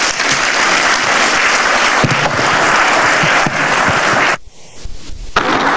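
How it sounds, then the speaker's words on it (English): A morning show audience at a live technology presentation bursts into loud, dense applause that continues strongly, then cuts off abruptly near the end. "A round of applause for the Cadiz evangelist, Mr. Poku Efriye Asante."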